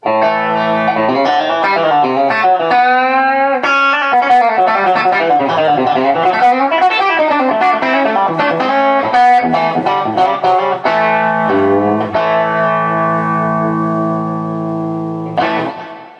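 A clean electric guitar through a TC Electronic HyperGravity compressor pedal plays a flowing melodic phrase with even, sustained notes and a touch of ambience, solo without any talking.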